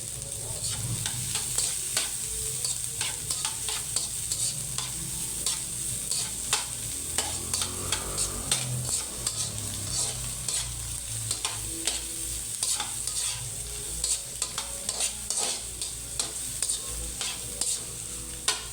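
Onion and garlic fry in oil with a constant sizzle while a spatula scrapes and knocks the pan in frequent rhythmic strokes, close and fairly loud, without speech.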